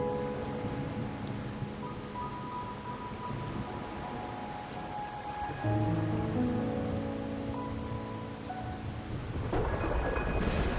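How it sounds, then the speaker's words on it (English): Rain falling in the video game Wuthering Waves, a steady wash of rainfall under sustained tonal game ambience and music, continuous and moderately loud with no speech. "My granddaughter told me Raguna's rain is a bad omen."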